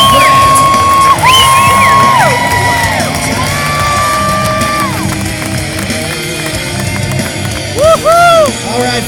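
A large outdoor crowd at a state fair BMX stunt show cheers, whoops and yells loudly and continuously, with whistle-like hoots rising and falling throughout.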